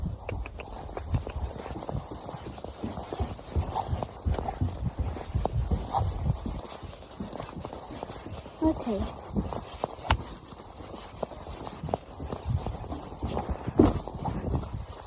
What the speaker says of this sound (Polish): No to jedziemy klusem i skaczemy i potem galopem i skaczemy